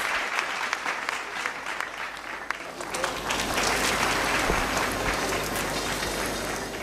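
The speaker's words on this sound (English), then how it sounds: "Everyone, some huge round of applause." A seminar audience on metal packaging breaks into a big round of applause, clapping building and swelling louder after a few seconds into a dense, sustained roar of many hands, with faint voices underneath.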